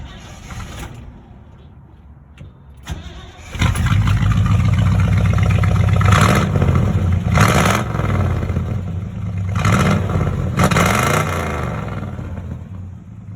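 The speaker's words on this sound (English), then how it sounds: "so you can hear the exhaust." A 1967 Chevrolet C10 pickup turns over and fires up, its old-school exhaust settling into a loud, steady, rumbling idle with several throttle blips swelling and falling, close by and heard alone.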